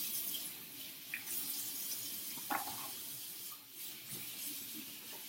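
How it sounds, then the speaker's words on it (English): Tap water running steadily over vegetables being rinsed in a kitchen sink before juicing, a close, continuous hiss and splash with small shifts as the produce moves under the stream. "So first, rinse off all of the dirt."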